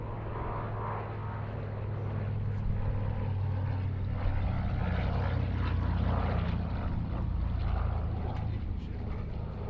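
A Douglas C-41A propeller aircraft flies its display at the Duxford summer airshow, radial engines giving a loud, sustained throbbing roar that swells slightly as it passes, with faint crowd noise beneath.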